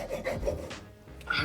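A blunt hacksaw cutting aquarium tubing, a few quick close rasping strokes in a short uneven rhythm, with no talking.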